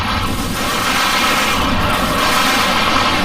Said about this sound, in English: The disadvantage of being in Devil Trigger when you're using your guns is that you can actually miss, because they fire more like lasers than guns.